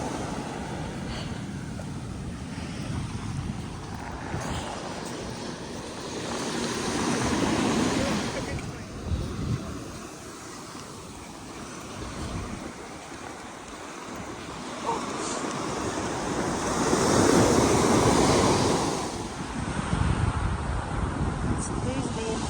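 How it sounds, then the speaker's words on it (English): Sea waves wash ashore at West Bay beach below the cliffs on Dorset's Jurassic Coast, a continuous broad roar of surf that swells and recedes, mixed with gusty wind noise on the microphone, and people talk faintly nearby. "Boo, you want to go in the sea?"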